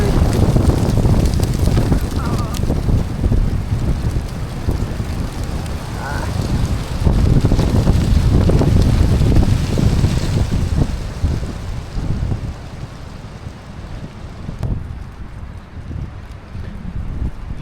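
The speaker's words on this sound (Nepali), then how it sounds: "सो हावा अझै पनि बौलाइरहेको छ है" Strong wind blows on an upland hike by Derwent Reservoir, a continuous loud rumbling buffet across the microphone that eases slightly toward the end, with no clear talk.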